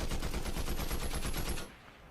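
Rapid automatic gunfire in a video game, a dense continuous burst of shots lasting about a second and a half, then cutting off abruptly to leave a low residual hum.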